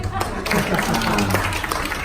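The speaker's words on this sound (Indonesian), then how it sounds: "Coba tepuk tangan dengan rumah sakit dulu" An audience at a hospital business gathering claps their hands, a loud continuous patter of many overlapping claps with some thuds, filling the whole moment.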